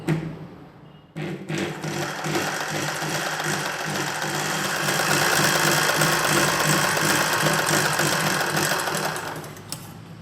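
A sewing machine stitches cloth for a nighty in a straight line, its motor and needle mechanism whirring loudly and continuously up close, building steadily in speed after a brief pause at the start.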